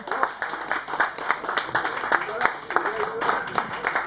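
An audience at a club tournament prize ceremony applauds the sixth-place club, giving fairly close, irregular clapping with distinct individual hand claps and a murmur of voices beneath.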